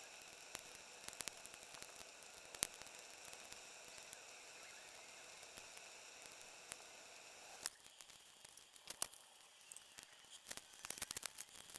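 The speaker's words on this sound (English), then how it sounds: "it's time to melt the snow" Snow melting in a cooking pot over an outdoor fire, a faint steady hiss and crackle with scattered small pops and ticks, quiet and continuous with no talking.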